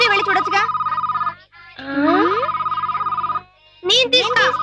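A telephone rings in a home, loud and close, in repeated trilling bursts separated by short gaps, with voices and household talk around it.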